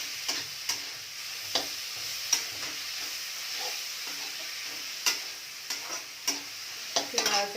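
Kanchan greens with ghee and a pinch of turmeric sizzle softly in a pan while a spatula stirs them in repeated scraping, tapping strokes.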